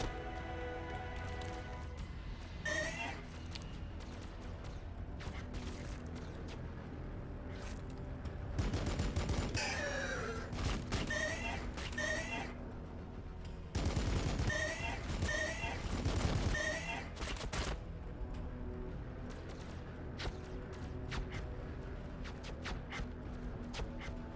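Gunfire in the video game Warhammer 40,000: Battlesector, sustained rattling volleys and sharp shots over a constant battle soundscape, swelling into denser bursts twice before easing back.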